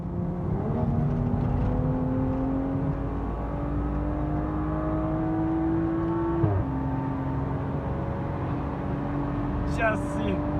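A modified BMW M135 engine hums steadily and climbs in pitch, dropping briefly before rising again, with voices talking over the continuous drone.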